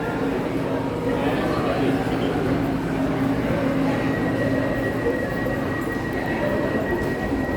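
A train at a railway station rumbles steadily and loudly throughout, with a rolling low clatter of wheels on track and a thin high squeal in the second half.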